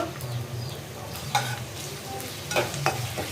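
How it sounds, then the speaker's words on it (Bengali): Katla fish and eggplant curry stirred in hot oil, a constant close frying sizzle broken by a few louder spatula scrapes against the pan. "এটা দিয়ে এখন আমি লাড়াচাড়া দিব"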